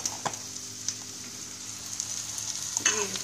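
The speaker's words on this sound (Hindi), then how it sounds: "ये चिकन जो हमने मैरिनेट करके रखा हुआ था अब हम इसमें डाल देंगे।" Marinated chicken frying in a pan for lemon pepper chicken gives a soft, steady sizzle with a few light clinks and a louder stirring burst near the end.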